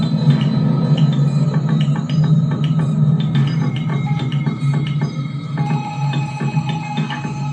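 A VCV Rack modular synth patch plays a steady low drone with tonal notes and a light, clicky percussive pattern on top, moderately loud, with no voices.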